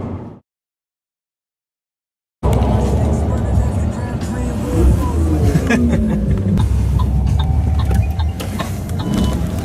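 A 2015 Lamborghini Huracan drives along with a loud, close engine roar and rumble, starting after a stretch of silence, while people talk over it inside the car.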